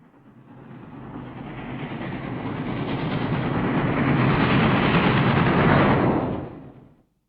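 Train running through wartime archive footage, a dense rumbling roar that swells steadily over several seconds, holds loud and full, then cuts off abruptly near the end.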